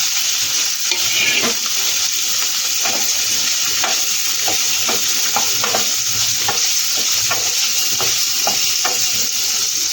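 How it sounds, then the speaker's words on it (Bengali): Paneer cubes fry in hot oil in a pan with a steady, close sizzle, while a spatula scrapes and stirs with soft clicks throughout. "এবার এগুলো ঢেলে দেবো মধ্যে হালকা করে ভেজে তুলে দেবো"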